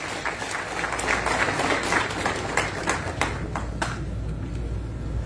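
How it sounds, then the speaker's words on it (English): Steady applause from a crowd at a UPND party manifesto launch, sustained clapping for about five seconds that thins slightly toward the end. "A round of applause for him."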